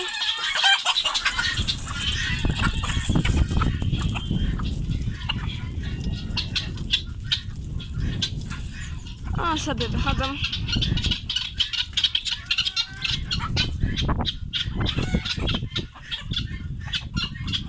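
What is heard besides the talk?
hens clucking as they leave the coop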